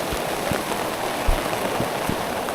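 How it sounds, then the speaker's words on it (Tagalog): Heavy rain falling in a forest, a dense, steady broadband hiss with scattered heavier drops and splatters close by, continuous throughout with no talk. "Ang lakas ng ulan, dilim."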